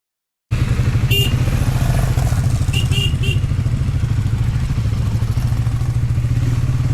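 Motorcycles on a group ride of around 55 to 60 riders from Bengaluru toward Coonoor: a loud, steady, close engine drone with a low throb, starting abruptly after a short silence and holding without pause.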